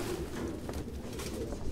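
Pigeons coo softly and repeatedly in the video game Detroit: Become Human, a low burbling call over steady background ambience with no talk.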